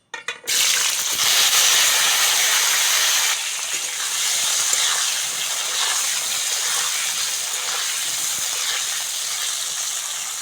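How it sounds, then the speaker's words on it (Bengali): Green plantain hits hot oil with a sudden sharp crackle, then a loud, steady sizzling hiss that settles slightly but continues close up and unbroken. "এবার কলাটা ভেজে নেবো"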